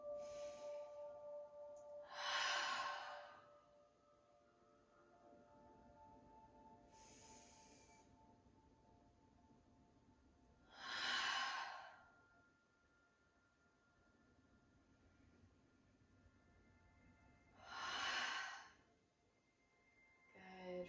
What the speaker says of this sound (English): Taking a couple deep inhales here and fully releasing on your exhale